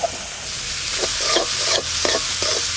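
Spice mix with turmeric and salt stir-fried in a pan for a wedding-style mutton curry: steady close sizzling, with a spatula scraping and stirring in periodic strokes about every second.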